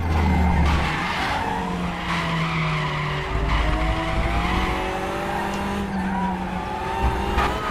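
A TCR touring car at the Nurburgring in RaceRoom howls steadily at high revs, with tire squeal and a brief rough jolt as it clips the curb, the engine loud and close throughout.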